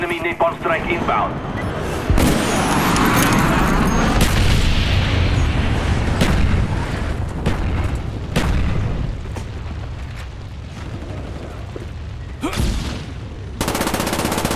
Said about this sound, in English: Enemy napalm strike inbound.